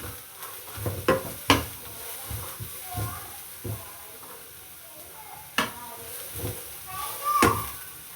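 Leeks and carrots sautéing in a pan for chicken fried rice, a soft sizzle with repeated scraping stirs and clatters of a utensil, close by, under speech.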